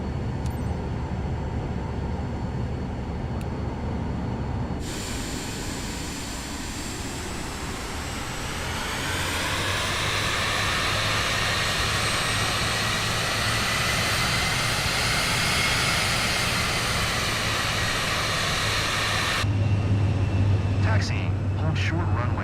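An aircraft taxis in Microsoft Flight Simulator 2024, its engine a steady whine and drone that grows fuller partway through and hums continuously for over twenty seconds.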